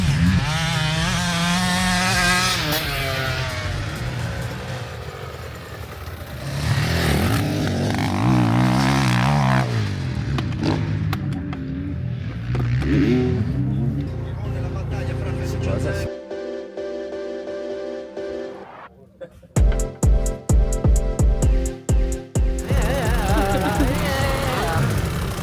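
A Husqvarna motocross motorcycle engine starts and revs at a motocross shoot, loud buzzing pulls rising and falling with sharp choppy bursts near the end, while people talk over it.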